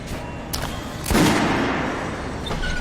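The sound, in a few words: Kalash rifle firing in video game Metro Last Light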